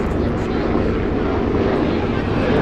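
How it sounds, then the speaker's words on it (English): Continuous low rumbling drone of a helicopter flyover above a soccer tournament pitch, loud and steady throughout, with muffled voices underneath. "Helicopter overhead if you couldn't hear"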